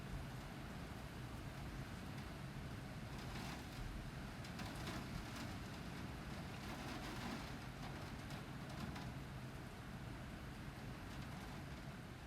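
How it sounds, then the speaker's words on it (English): Heavy, torrential rain pours down outside as a steady, dense hiss that stays even and fairly faint for the whole stretch, with no voices over it. "It is pouring rain outside"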